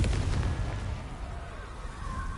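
A Confringo blasting spell explodes in Hogwarts Legacy, a single heavy boom that fades into a rumbling tail over a couple of seconds.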